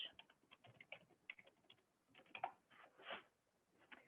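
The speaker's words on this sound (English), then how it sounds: "I'm going to have Barry type in cost of college" Quick bursts of typing on a computer keyboard, light clicky keystrokes in short runs with brief pauses, faint and close, no talk.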